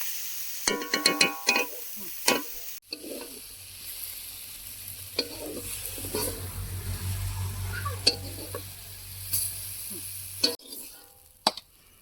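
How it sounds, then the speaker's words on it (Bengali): Leafy greens sizzle and hiss while frying in a pan, with a steady crackle between sharp clinks of a spatula scraping and tapping the pan, close by. "শাক ভাজা হয়ে এসছে, আর বেশি ভাজতে হবে না, হয়ে গিয়েছে।"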